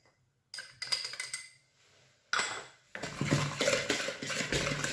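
Sugar and eggs whisked by hand for a cake batter, with quick clinking strokes against a bowl that come in bursts separated by short pauses.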